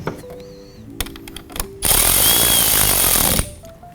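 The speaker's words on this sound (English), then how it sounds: "Go ahead and start tightening that nut back down." Power tool running down a nut onto a terminal bolt during a Spartan light install on a 2024 Ford F150 hood, a loud, close buzzing whir of about a second and a half after some light clicks and handling.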